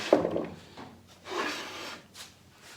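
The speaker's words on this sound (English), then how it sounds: "So I'll do a little bit of sanding to flush that out" Sanding by hand on the wooden demilune table, a few soft rasping strokes up close, with quiet pauses between the bursts of abrasive rubbing.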